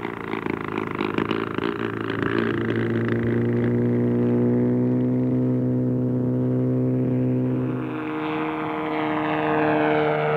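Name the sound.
gyrocopter in flight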